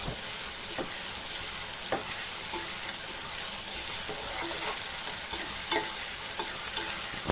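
Ginger garlic paste sizzling and frying in a pan for a prawn and gongura curry, a steady close hiss broken by the scrape and clack of a spoon stirring now and then, with no voices.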